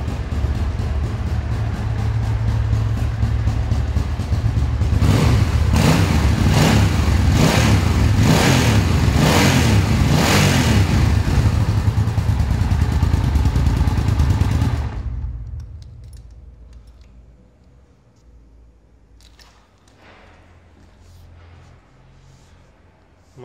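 A 1985 Suzuki Intruder 750 motorcycle engine revs loudly up close in several rapid pulsing bursts, then drops off abruptly to a quiet idle-like rumble and near silence.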